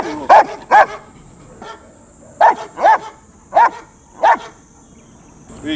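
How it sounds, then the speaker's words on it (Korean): A dog barks repeatedly nearby, about seven loud, sharp barks in irregular pairs and singles, with brief quiet gaps between them. "얘 같은 경우는 짖는 의사가 공격한다는 의사니까 짖는 소리가 점점 줄어들거든요"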